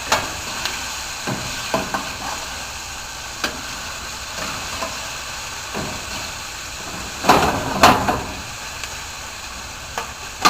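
Onions and garlic cook in a pan, giving a steady broadband sizzle with scattered clicks and scrapes of stirring, a louder burst of clatter partway through, and no voices.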